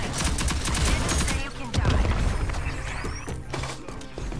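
Dense automatic gunfire and rapid shots from the Rogue Company video game fill a ranked match, loud and continuous with bursts overlapping and sharp impact clicks throughout.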